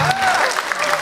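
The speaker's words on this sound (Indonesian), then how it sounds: "Tepuk tangan buat Gerald dan juga Ania" A live stand-up comedy audience claps for comedians Gerald and Ania, a brief dense burst of applause with a host's voice carrying over it.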